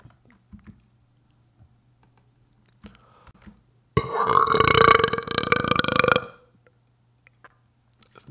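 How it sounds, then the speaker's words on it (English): A single long, loud, rasping burp lasting about two seconds, close to the microphone, preceded and followed by faint clicks and small mouth noises. "That was like a 5 out of 10 as far as the quality of the burp."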